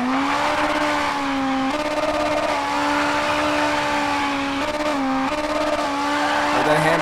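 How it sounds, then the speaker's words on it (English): Rally car in WRC 9 racing game with a steady, loud engine tone shifting pitch as it accelerates and slides through a handbrake turn, tire skid noise blending in, continuous throughout. "That handbrake just takes it right out of there."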